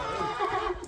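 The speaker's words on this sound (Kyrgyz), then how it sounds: "таза дыйкандын аттары болуп атат туугандар." A horse at a livestock market gives one short, loud, close neigh with a wavering whinny.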